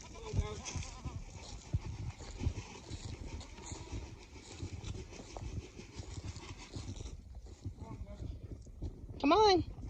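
Goats bleat in a pasture being opened up with polywire electric fence, a wavering cry rising near the end, amid farm background noise and bits of speech.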